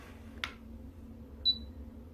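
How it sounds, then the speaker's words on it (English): An InnoGear 300ml wood grain essential oil diffuser gives a single short, clear high-pitched beep, set against a quiet background with a faint low hum and one brief soft click just before it. "It beeped. Did you hear it beep?"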